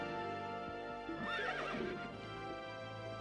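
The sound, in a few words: horse neighing at the stables in video game Berwick Saga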